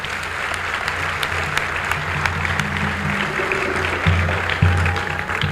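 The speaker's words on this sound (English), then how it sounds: "Let's give them a round of applause." Applause from a crowd at a conference hall, a steady wash of clapping held at constant loudness, with low droning tones and a few brief bumps underneath.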